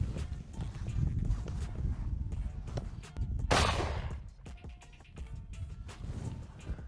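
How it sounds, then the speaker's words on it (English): A single sharp gunshot from an ordinary cartridge fired at a metal safe cracks out midway through, loud against a busy background of shuffling and low noise, then fades into quieter handling sounds. "we shoot with an ordinary cartridge"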